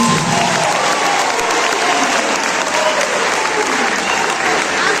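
A church congregation at a Sunday Mass at Notre Dame de Fatima bursts into loud, sustained applause, a dense wash of clapping from many hands with faint crowd voices mixed in.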